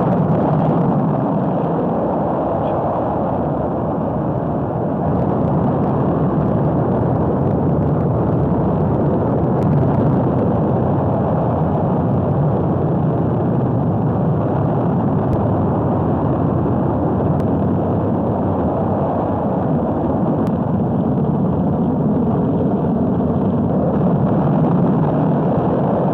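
Apollo 11 rocket launch: a loud, continuous, broadband roar that holds steady and unbroken throughout, heavy in the low end with no voices.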